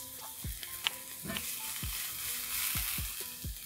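Onions frying in oil left from searing meatballs, a soft steady sizzle with repeated scraping strokes of a spatula against the pan at a regular pace.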